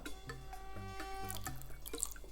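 A little water is poured into a pan while cooking a Catalan dish of ganxet beans with clams, a faint trickle and drip under steady kitchen hum and tonal background whine.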